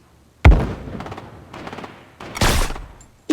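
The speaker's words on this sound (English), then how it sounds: "try and snipe someone with my sniper" A sniper rifle in Fortnite fires one sharp, loud crack that trails into a rolling echo, followed by a second burst of sharp gunfire and another hit at the very end.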